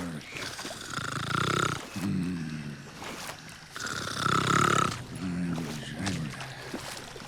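Loud rhythmic snoring from a character in the Western video game Call of Juarez: Gunslinger, two long rasping breaths with a pause between, close and prominent with game ambience underneath.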